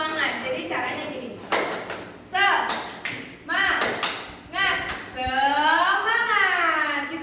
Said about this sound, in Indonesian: Kita akan melakukan namanya tepuk semangat